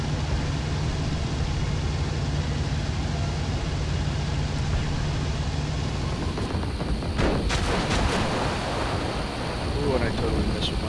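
Bombs dropped from a diving plane in IL-2 Sturmovik burst over Tobruk's desert, heard as several sharp cracks and rumbling blasts late on, over a steady roar of engine and wind.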